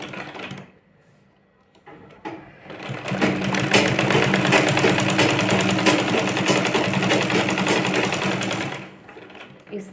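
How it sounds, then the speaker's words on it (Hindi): Sewing machine running steadily as it stitches along the edges of a petticoat, a loud continuous whirring that starts after a couple of seconds and stops near the end. "इस तरह से इसके किनारे किनारे पे सिलाई लगा देंगे"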